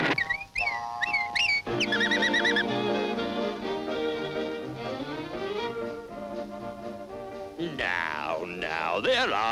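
Cartoon magpies chatter in squawky, warbling calls over a busy orchestral score, the bird cries coming in bursts that are partly masked by the music.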